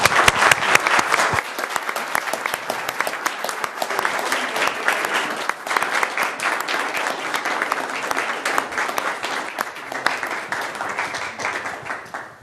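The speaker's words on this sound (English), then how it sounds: "One more round of applause." An audience at a school board meeting gives a sustained round of applause, dense steady clapping from a room full of people lasting over ten seconds, slowly thinning toward the end.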